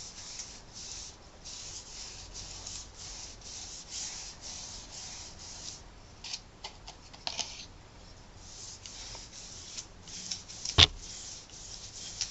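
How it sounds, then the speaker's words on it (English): A big bristle brush is worked back and forth across a surface, applying a medium, giving a steady, soft scratchy rubbing of close strokes with a few sharper taps, no talking. "I'm using a big bristle brush to apply this."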